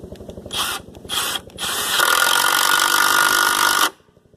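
A power driver sets a 2-inch number 10 square drive screw into wood while building a wooden post vise, two short whirring bursts and then one long steady drive before it stops.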